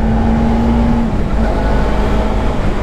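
Suzuki GSX 250 R motorcycle engine running close by with a steady tone that drops partway through, loud and continuous with no talking.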